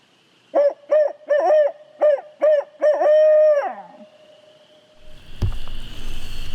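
A hunter's voice imitating owl hoots in a Mississippi woods at dawn to locate turkeys: a rhythmic run of about seven loud hoots ending in a drawn-out trailing call, followed by faint rustling.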